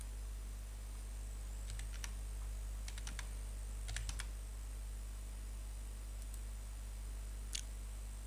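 Typing on a computer keyboard, short bursts of faint clicking keystrokes in small clusters over a steady electrical hum.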